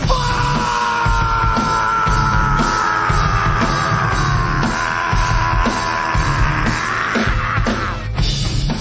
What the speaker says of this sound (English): I just want you to scream fuck. As hard as you can fucking scream.